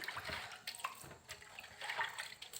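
Faint trickle and splash of water from a kitchen tap as vegetables such as cabbage and spring onions are rinsed, soft and uneven with small drips, no speech.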